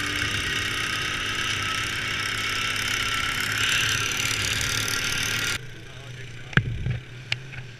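A motorbike engine idles steadily at moderate volume for several seconds, then cuts out abruptly, leaving a few sharp clicks and rattles.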